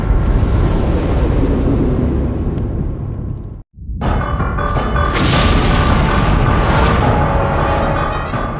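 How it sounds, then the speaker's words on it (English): A nuclear blast explosion sounds as a loud, sustained roaring rumble, cut off by a brief silence before a second thunderous boom surges back with crackling, dramatic intensity. "you won't believe how different a nuclear blast in space looks and how destructive it can still be back on Earth."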